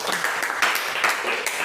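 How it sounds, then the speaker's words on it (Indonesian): Classroom students clap briefly together after a lesson segment, a short burst of steady, moderately loud clapping with no one speaking. "Tepuk tangan dulu untuk yang bagian"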